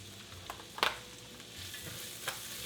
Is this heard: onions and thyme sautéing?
yes